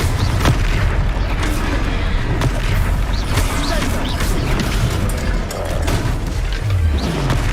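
Confringo fire spell in the Hogwarts Legacy video game: a run of loud booming blasts and crackling impacts during a battle, with bursts going off repeatedly across the whole stretch.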